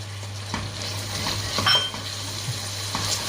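Frozen green beans land among peas and carrots in a hot pan, a short soft sizzle with scattered clinks and scrapes of stirring, with no voices.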